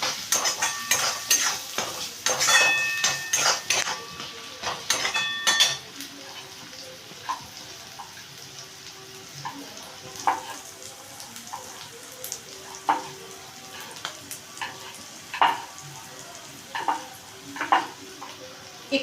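Spice masala with tomato and salt for egg biryani is stirred and sautéed in a pan, a spoon scraping and clinking in bursts over a soft sizzle, busier at first, then sparser, close and alone.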